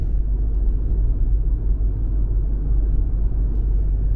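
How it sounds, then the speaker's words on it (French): Cabin of a Citroën C5 Aircross 1.2 PureTech with EAT8 automatic cruising at 110 km/h on a motorway: a constant low road and engine rumble with soft wind hiss, even and unbroken, with no one talking. "110 km/h sur l'autoroute pour tester le volume sonore de ce C5 Aircross"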